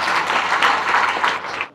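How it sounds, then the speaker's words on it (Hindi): An audience at a Rajasthan family welfare program event claps loudly in a dense, brief burst of applause that stops abruptly after under two seconds. "ताली बजाएं।"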